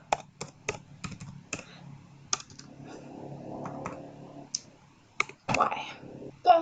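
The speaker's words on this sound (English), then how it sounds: "Just typing in caps locks." Clicky computer keyboard typing while coding a custom cursor in CSS and JavaScript, close and crisp, in short irregular bursts of keystrokes with a quiet voice murmuring between them.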